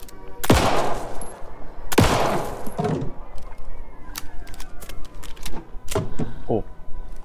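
Gunfire from the video game Alan Wake 2: two loud, sharp shots ring out close with echoing tails, followed by scattered softer clanks and clicks, while a voice speaks at times.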